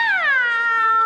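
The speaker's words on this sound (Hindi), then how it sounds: "ये बुलबुल बिल्ली" A cat gives one loud, close meow that starts high and slides downward over about a second.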